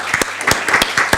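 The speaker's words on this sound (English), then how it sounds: "But clapping's a good response" Audience clapping after a talk on democracy and digital communities, a loose patter of hands breaking out in distinct bursts, fairly close and moderately loud.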